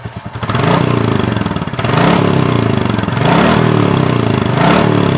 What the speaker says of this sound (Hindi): और मैं यहीं से इसको रेव करके भी सुना देता हूँ आप लोगों को।